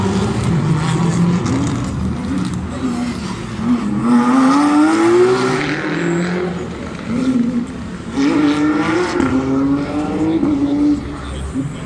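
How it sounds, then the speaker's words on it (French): Porsche 991 GT3 rally car at the Rallye de Wallonie passing grandstands, a loud rising and falling engine roar with gear changes sweeping by, then a second surge, with crowd noise around. "on va vous laisser profiter évidemment du passage du premier devant les gradins de cette Porsche 991 GT3"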